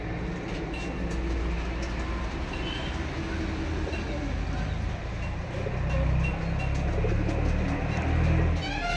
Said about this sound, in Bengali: আমাদের এটা পায়রা আর এটা পায়রা